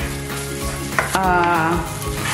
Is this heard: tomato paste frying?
yes